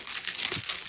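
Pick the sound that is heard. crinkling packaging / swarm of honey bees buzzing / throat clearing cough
crinkling packaging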